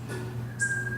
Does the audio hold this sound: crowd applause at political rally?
no